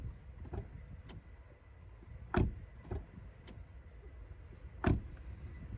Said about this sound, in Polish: posłuchajmy jeszcze dźwięku zamykania drzwi